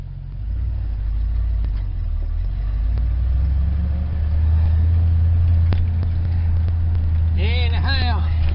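Ford truck on the road after a brake repair, a steady low engine rumble and road drone heard from inside the cab, close and constant, with a brief squeak near the end and someone talking over it.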